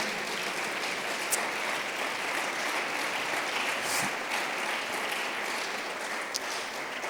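A church congregation claps together in a steady, even wash of applause that runs without pause, with a few sharper claps standing out here and there.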